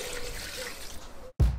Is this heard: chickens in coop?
no